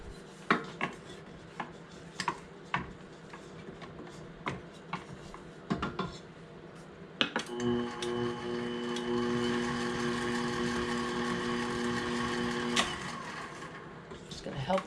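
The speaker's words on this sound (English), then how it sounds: "Just gonna help the mixer out a little bit here and mix our wet ingredients together" Scattered clanks and knocks of bowls and utensils come first. Then a stand mixer starts on sourdough cinnamon raisin bread ingredients and runs as a steady, close whirring hum for several seconds before winding down.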